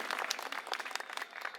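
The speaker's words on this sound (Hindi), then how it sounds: "हमारे एक एक कार्यकर्ता के लिए पहले जोरदार तालियां बजाइए" Applause from the crowd at a political rally in Adarsh Nagar, Delhi, a brief, fairly distant burst of many hands clapping together.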